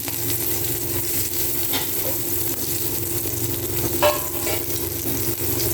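Dry and green chillies with panch phoron frying in hot oil in a pan: a steady, dense crackling sizzle that holds for several seconds, close and fairly loud, with a brief sharper spatter near the end and no voices.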